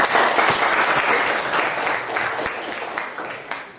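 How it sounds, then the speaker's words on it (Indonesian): Students in a classroom give a burst of applause, dense fast hand clapping at close range that gradually thins and fades, with faint voices underneath. "Ya, kasih tepuk tangan dulu."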